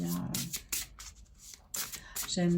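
Playing cards are shuffled by hand for a live card draw, giving brisk riffling and sliding flutters in quick bursts, close up, while a voice talks over them.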